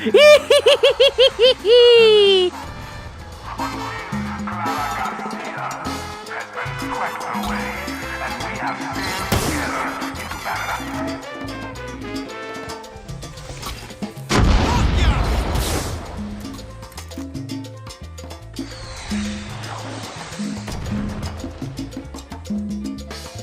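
Mortar fire and explosions in the video game Far Cry 6, with several heavy booms and blasts spread through a busy game soundtrack, mixed with excited talk and laughter.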